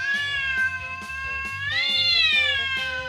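A cat meows in a long, tonal, rising cry that swells in the middle. A steady rhythmic pattern of low thumps runs beneath it, and no one speaks.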